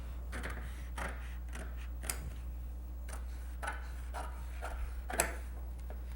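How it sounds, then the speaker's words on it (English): Scissors cut Bimini top boat canvas in a series of crisp snips and ticks, some single and some in small clusters, over a steady low hum. "when I'm cutting this out, the scissors first"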